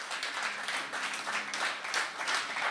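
A church congregation breaks into sustained applause, a dense, steady patter of many hands clapping together for a few seconds, moderately loud.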